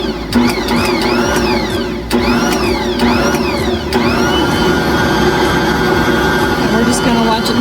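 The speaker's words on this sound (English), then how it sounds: "we're just gonna watch it mix" An electric stand mixer churns cinnamon roll dough made with Khorasan flour, honey, mashed potatoes and eggs, with the lid on, giving a loud, steady motor whine with rhythmic rising sweeps; voices can be heard over it.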